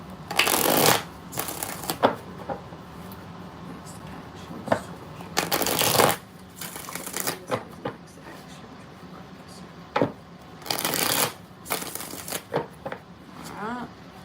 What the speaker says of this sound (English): 5 shuffles for Crimson.